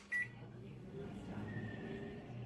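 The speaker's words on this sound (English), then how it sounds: "I put it in the microwave." A microwave oven runs with a steady low hum and faint electrical whine, preceded by a brief high chirp near the start, heard alone at moderate-low level.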